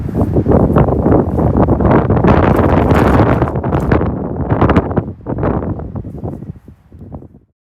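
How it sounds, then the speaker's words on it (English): Strong wind gusts of around 45 mph batter the microphone outdoors, a loud roaring rumble that swells and buffets continuously before easing toward the end. "I think there's 45 mile an hour wind gusts today, and it gets worse tomorrow."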